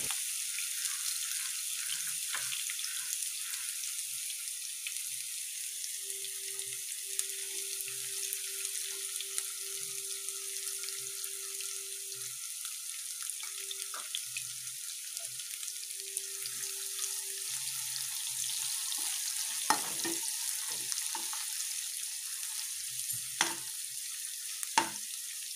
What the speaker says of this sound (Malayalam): ഇനി ഞാൻ ചെയ്യാൻ പോകുന്നത് ഒന്ന് ഇളക്കി ഫ്രൈ ചെയ്തെടുക്കാം.